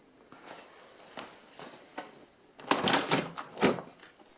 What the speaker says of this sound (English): Now just lift the panel to remove it from the door.